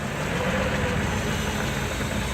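A 1914 six-cylinder Packard engine idles at a fall car show, a steady low, even rumble held loud and close throughout with no pauses.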